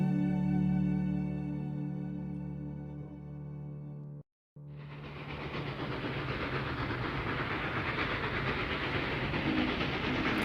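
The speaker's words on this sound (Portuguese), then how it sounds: "o Pequeno Príncipe avistou um trem iluminado que vinha passando roncando como um trovão" Illuminated train rumbling past like thunder, with a sustained tonal hum breaking off to a brief silence, followed by a dense, steady roaring rush of rolling noise.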